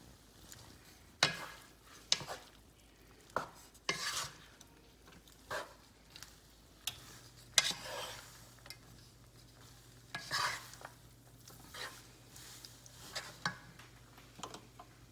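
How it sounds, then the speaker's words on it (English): Pasta with bacon and garlic is stirred in a hot pan for spaghetti carbonara, a quiet sequence of irregular scraping and clacking strokes over a faint sizzle, with no talking. "So we're just warming everything up together with the bacon and garlic."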